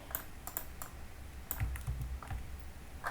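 Quiet computer keyboard typing while code is copied and pasted, a few scattered, close key clicks and taps in short bursts against a low background hush.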